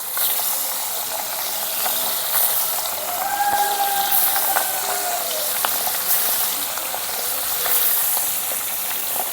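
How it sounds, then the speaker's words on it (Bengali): Steady, loud sizzling and crackling of bacha fish frying in hot oil in a kadai, continuous throughout with no talking. "ভেজে নেব মাছগুলো।"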